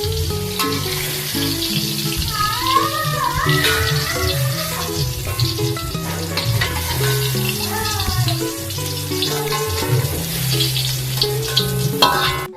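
Eggplant stir-frying in a pan, a steady loud sizzle with clattering stirring throughout, over background music.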